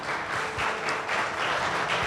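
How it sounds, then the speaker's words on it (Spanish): A church congregation applauding, dense and continuous clapping filling the room at a steady moderate level for a couple of seconds, with no speech over it. "Denle un fuerte aplauso al Señor, por favor."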